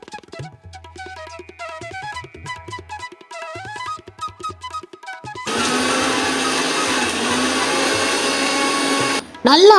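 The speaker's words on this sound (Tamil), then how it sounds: "அதோட இந்த இஞ்சி தேங்காய் தேவையான சுகர்ஸ் ஆட் பண்ணி மிக்சியில் நல்லா கிரைண்ட் பண்ணிக்கோங்க" Background music plays with speech at first, then a loud mixer grinder whirs steadily for several seconds, grinding lemon juice with ginger, coconut and sugar, before stopping abruptly.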